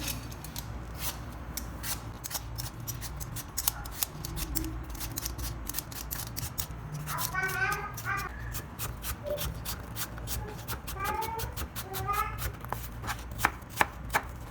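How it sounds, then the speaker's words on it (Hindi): Apples are peeled and cut for fruit chaat, making a rapid, regular series of crisp knife strokes and chops close by for the whole stretch, with a few brief chirpy sounds in the background. "सबसे पहले हम एप्पल को छील लेंगे।"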